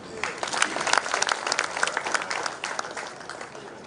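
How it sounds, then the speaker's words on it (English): Audience at a memorial lecture in Zambia clapping for nursing graduates, a moderate burst of many hands that builds quickly and then tapers off. "Can we clap for them?"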